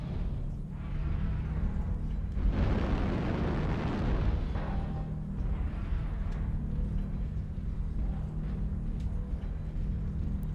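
Airstrike explosions in a video game rumble loudly in the mid distance, a heavy swelling boom followed by rolling, fading blasts over a steady low background drone.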